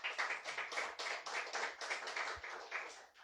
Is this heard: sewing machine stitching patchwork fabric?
no